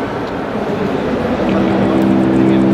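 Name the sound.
McLaren 650S Spider sports car engine at unveiling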